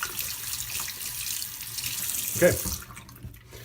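Tap water runs steadily into a sink while a water-soluble shoe sole repair product is rinsed off, a close continuous hiss that fades near the end, with one brief spoken word.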